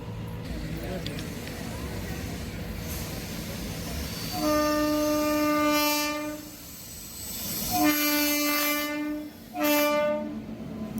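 A train crosses a railway level crossing at Chelleghatta in Yeshwanthpur, Bengaluru, with two or three loud horn blasts ringing out over rumbling wheels and road traffic while waiting vehicles idle nearby.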